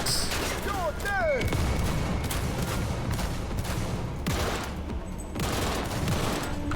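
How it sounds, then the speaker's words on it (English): A grenade blast and other combat noise in Cyberpunk 2077 come through as a quiet mix of thumps and gunfire bursts, with a voice speaking over it. "Grenade out."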